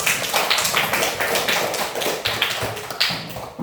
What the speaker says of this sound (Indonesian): Terima kasih untuk kelompok apel. Tepuk tangan.